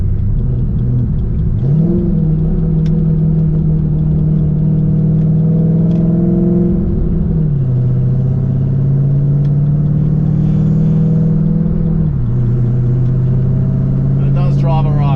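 A cammed Ford BA Falcon GT (GTHO) engine running cold gives a loud, steady, lumpy rumble close by, with the revs surging and dropping at a few points as it bucks around.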